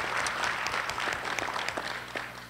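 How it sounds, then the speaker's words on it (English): An audience at a carbon pricing panel discussion claps for a speaker introduction, a moderate, steady patter of many hands with a faint voice underneath. "Going to be a lot of clapping tonight"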